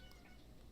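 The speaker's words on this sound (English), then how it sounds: "I hear them meow." Faint single short cat meow, quiet and brief, heard at a distance.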